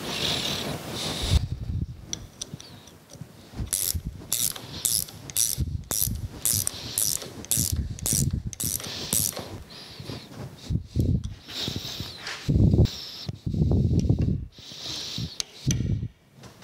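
Close ratchet clicks as screws are tightened on a steam locomotive brake valve, a quick series of sharp, rhythmic clicks, followed by heavier clunks and handling noises.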